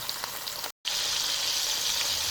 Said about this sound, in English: I have some vegetable oil, nice and hot. And I'm going to sear this 4 minutes on each side.